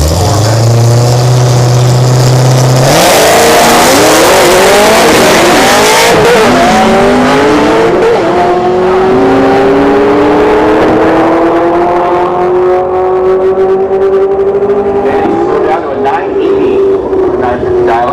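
A 2013 Cadillac CTS-V and a 2006 Corvette drag racing at Orlando Speed World: engines idle low, then erupt into loud launches, revs climbing through gear shifts into a sustained rising roar that fades slightly as the cars pull away.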